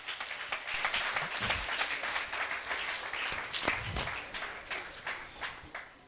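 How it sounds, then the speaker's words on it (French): A church congregation applauds a visiting apostle during a French-language service, loud sustained clapping that fills the room for several seconds, with faint voices and cheers mixed in. "l'équipe de notre papa apôtre Élie Ézéchiel que je voudrais qu'on acclame ce matin"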